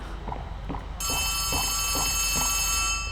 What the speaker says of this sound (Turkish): Yine telefon çaldı.